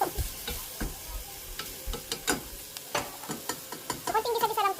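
Spam frying and stirred in a pan while making chicken sopas, with irregular sizzling and scraping clatter under steady frying noise, a few sharp utensil clicks standing out.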